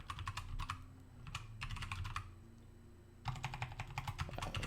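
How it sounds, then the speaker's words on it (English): Rapid keystrokes on a computer keyboard come in close, steady bursts separated by short pauses, with a low hum underneath. "typing experience of a game designer"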